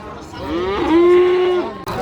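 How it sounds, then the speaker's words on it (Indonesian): A Simmental cow at the Kerek cattle market gives one long, loud, close moo that swells and fades over about a second, with no talk over it. "Ini ada sapi jenis simental teman-teman."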